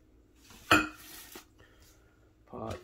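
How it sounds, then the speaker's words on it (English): A coffee pot is emptied and handled, with a sharp clank of the pot near the start, a brief pour and rattle, a small knock, then another clatter of glass and metal at the end, all close and fairly quiet. "Dump out the pot"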